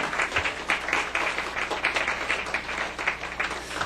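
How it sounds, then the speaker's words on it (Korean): Sustained applause from a church congregation in a sermon hall, many hands clapping together in a thick, even roar that holds steady throughout without any speech over it. "위대한 우리의 어머니들을 향해서 박수를 한번 보내주세요"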